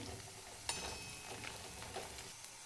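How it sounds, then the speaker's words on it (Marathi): Garlic and ginger sizzle in hot oil for a chana masala, a soft steady frying hiss with a few light clinks and stirring bumps, close and fairly quiet with no one talking. "लसण आणि अद्रक टाकायचे, तेलामध्ये भाजून घ्यायचे"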